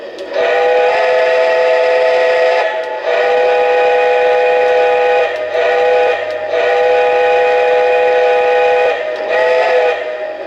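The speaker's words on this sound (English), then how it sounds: "Let's hear the whistle." A loud, chord-like whistle from a Lionel LionChief Plus 2.0 B&O Pacific model steam locomotive sounds in several long blasts separated by short gaps, with a low engine hum underneath.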